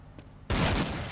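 Loud, sustained burst of rapid gunfire erupts after a half-second of quiet in a Counter-Strike match, the shots packed into a dense continuous volley that runs to the end.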